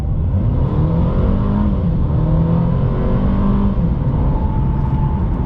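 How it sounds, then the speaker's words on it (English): A Mercedes-Benz A-Class 4MATIC engine revs up steadily under acceleration, a continuous loud hum rising in pitch with no talking. "let's go ahead and put the pedal down"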